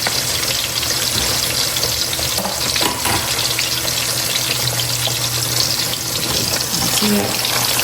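Pork chops fry in a pan with a dense, steady crackling sizzle close up. Faint clatter and a brief low voice sit underneath.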